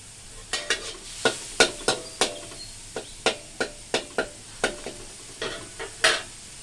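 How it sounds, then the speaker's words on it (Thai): Minced chicken stir-fries in a wok with oil and a little water before kale stems go in, a soft continuous sizzle punctuated by a regular run of sharp spatula scrapes and knocks, close and without speech. "ผัดให้สุก"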